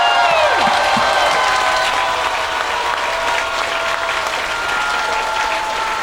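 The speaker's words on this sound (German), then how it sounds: "Das ist ein Applaus" A large studio audience at a German-language folk music TV show applauds steadily and loudly for several seconds, with some whistles rising above the dense clapping.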